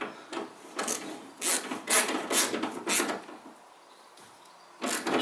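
A socket ratchet makes close, rough clicking and rasping strokes in uneven bursts while tightening a bolt on an MGB engine shroud, going quiet briefly before one last stroke.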